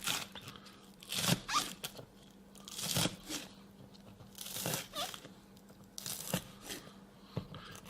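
Fresh green onions cut with a knife, giving about six crisp crunching chops with squeaky snaps, spaced irregularly, close up with no talking.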